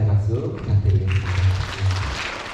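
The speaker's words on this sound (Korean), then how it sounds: "다시 한번 감사의 박수 부탁드리겠습니다." Applause from a school audience at a middle school environment concert. It builds under a voice and then thins out, with speech heard over it for much of the clip.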